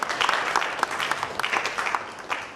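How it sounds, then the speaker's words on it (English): A short, lively burst of applause at a Ghana Institution of Engineering launch, close and fairly loud with distinct individual claps throughout. "let's give him another round of applause."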